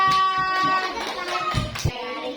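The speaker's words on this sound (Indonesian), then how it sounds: "Kasih tepuk tangan untuk kelompok 2." A brief burst of clapping hands from a small group in a classroom, with children's voices chattering underneath.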